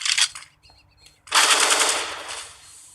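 Desert Eagle pistol shots in the tactical shooter CS:GO during a pro match: a few quick sharp shots, then a louder, longer blast that fades out, with no speech.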